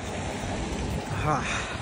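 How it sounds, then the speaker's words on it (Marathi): Steady wind rushing in cold, rainy weather in Russia, a continuous broadband whoosh close to the microphone with water-like hiss throughout and no clear speech. "हवा सुटले, थंडी वाजते. पाऊस पडतो सगळं."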